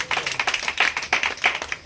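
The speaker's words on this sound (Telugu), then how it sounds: "ఒకసారి గట్టిగా చప్పట్లు కొడతాం" A church congregation at a Christmas worship gathering claps loudly together, a dense run of hand claps with strong rhythmic peaks across the whole stretch, and no voices over it.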